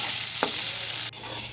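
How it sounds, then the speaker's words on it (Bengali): Potatoes fry in hot mustard oil in a wok with a loud, close, dense sizzle and a brief stirring scrape, then the sizzle drops away suddenly near the end. "তেলটা আবার গরম হয়ে গেছে, আলুগুলো ভেজে নেব।"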